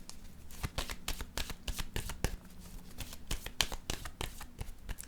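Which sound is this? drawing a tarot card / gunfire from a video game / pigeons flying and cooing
drawing a tarot card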